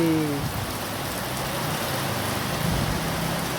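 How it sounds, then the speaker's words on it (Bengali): Heavy evening rain with big drops pours down outside in a steady, dense patter that holds evenly throughout, with a faint vehicle rumble underneath. "বাইরে বৃষ্টিটা দেখুন একবার বুঝতে পারছেন কিনা জানি না শুনতে পাচ্ছেন আওয়াজটা বেশ বড় বড় ফোটা পড়ছে"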